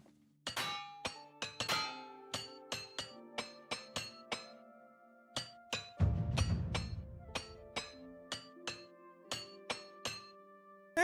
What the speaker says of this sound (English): we could go ahead and use our repair tool, or repair hammer